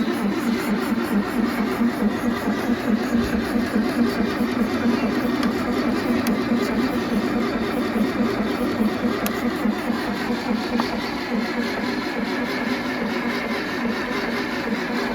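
A 1968 car engine salvaged from the garbage cranks on its starter with a steady, loud, rhythmic churning that runs without pause and never catches.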